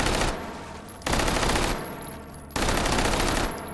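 Automatic weapons fire in bursts in the VR shooter H3VR: Take & Hold. Three loud, rapid fusillades are separated by brief pauses, dense and close with no voices over them.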